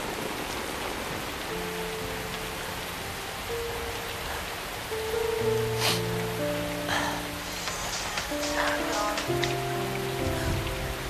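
Rain falls in a steady, even hiss throughout, with musical tones coming in partway through and lasting to the end.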